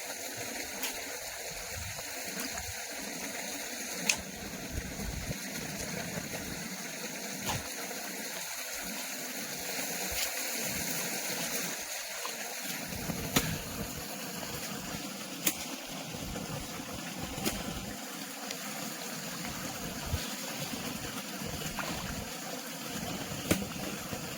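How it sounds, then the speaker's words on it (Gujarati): Irrigation water from a pump flows into a channel in a field being sown with cotton, a steady, soft, continuous gurgle close by, with faint clicks over it. "જો આ નેકમાં પાણી જાય છે"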